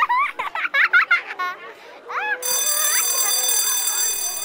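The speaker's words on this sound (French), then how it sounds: "Oh, la sonnerie! C'est déjà l'heure des parents!" A school bell rings in a French children's cartoon. The steady, loud electric ring comes in after a burst of children's chatter and playground voices.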